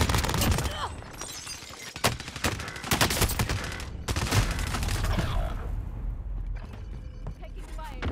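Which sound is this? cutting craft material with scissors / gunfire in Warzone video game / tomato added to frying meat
gunfire in Warzone video game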